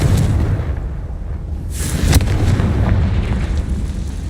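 Confringo fire spell erupting in Hogwarts Legacy, a sharp bright burst with a short crackling boom rising out of a dense rumbling battle background.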